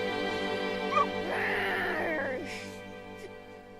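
A puppy in Final Fantasy XVI whimpers and yips in a brief high whine. It sits over a steady tonal musical background, with faint later squeaks.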